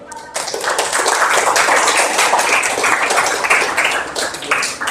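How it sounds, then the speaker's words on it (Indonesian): A classroom of pupils claps for a video they have just watched: dense, continuous close applause that starts abruptly and holds steady to the end. "Tepuk tangan buat videonya."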